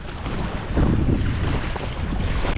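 Strong wind gusts buffet the microphone beside a gravel-pit lake, a loud steady roar with low rumbling surges and the wash of water, no voices present.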